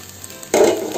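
A spoon stirs tuna fish thoran into sautéed onions frying in a pan: a sudden close scrape and sizzle burst in halfway through and keep going for the rest of the moment.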